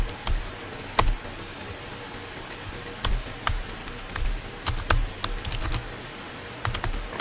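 Close, steady typing of code on a computer keyboard, with irregular bursts of clicky keystrokes and short pauses between them, heard on their own without talk.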